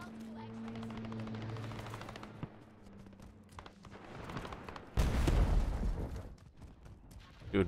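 Assault rifle gunfire in the video game Modern Warfare: bursts of automatic shots, loudest in a heavy volley midway through, with game sounds and some talk mixed in.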